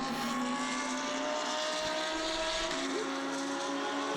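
Race cars including a Lamborghini, an Audi and a Porsche pull away at the start of the 24 Hours of Zolder, a continuous engine roar with steady whining tones rising slightly, moderately distant.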